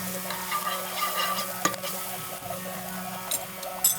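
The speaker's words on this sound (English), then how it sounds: "I'm going to add some garlic over here to this pan." Garlic sizzles steadily in a hot pan for a seafood dish, a constant crackling hiss with a few sharp clinks and stirring knocks near the middle and end.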